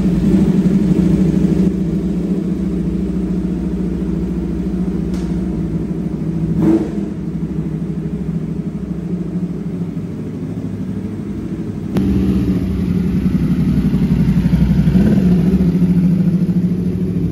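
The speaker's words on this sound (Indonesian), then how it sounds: "jadi kali ini kita bakalan test ride Aprilia V4 RR. Ini mesinnya V4, guys." An Aprilia RSV4 RR motorcycle with a 1000cc V4 engine runs close by, rumbling at idle with brief revs and shifting engine tones throughout.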